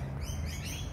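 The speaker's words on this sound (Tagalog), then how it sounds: "Sobrang daming ibon." Many birds in a city park chirp over a low background hum in a brief, busy burst of overlapping high tweets, with no talking.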